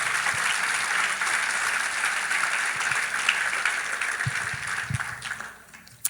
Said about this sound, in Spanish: Dele un fuerte aplauso a Dios.